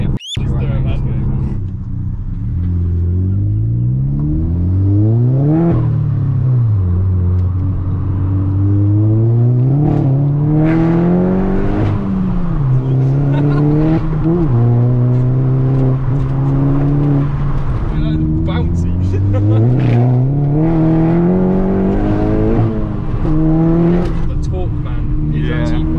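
A tuned 364bhp Mk5 Golf GTI with bolt-on upgrades and a high-pressure fuel pump accelerates hard. Its loud, close engine note climbs repeatedly through several gear changes, each rise dropping back before surging again.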